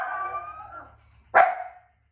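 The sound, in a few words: guard dog barking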